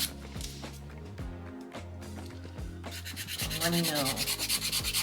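Rhythmic rasping of a nail file over polygel nails, close and scratchy with repeated back-and-forth strokes that quicken near the end, with a brief spoken remark over it.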